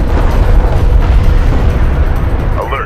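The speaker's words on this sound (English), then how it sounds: "Strike fighter destroyed." A strike fighter blown up in Homeworld: Deserts of Kharak, a loud, deep, rumbling blast that rolls on for several seconds with crackling debris, and a few faint tonal game effects near the end.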